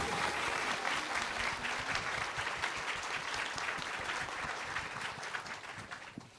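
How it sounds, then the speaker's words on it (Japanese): Sustained, dense applause from an audience at the opening-day stage greeting for the film 女子高, filling the hall continuously and easing slightly near the end. "今一度大きな拍手をお願いいたします"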